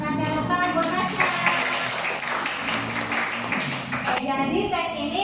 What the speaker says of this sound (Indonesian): Tepuk tangan buat Tasya.